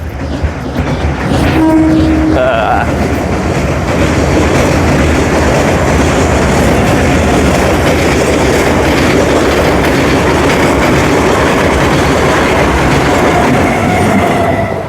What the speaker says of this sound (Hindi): ट्रेन आ रही है और उसको भी कैप्चर करता हुआ निकल जाएगी